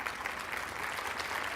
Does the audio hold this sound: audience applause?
yes